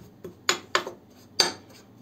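Spoon stirring baking soda and vaseline in a bowl, producing four or five sharp, bright clinks against the dish at irregular intervals, close and fairly quiet, with no talk.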